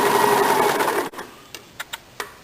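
A home sewing machine runs a steady, close, whirring burst while double stitching the armhole seam of a blouse, then stops, followed by a few sharp clicks and taps.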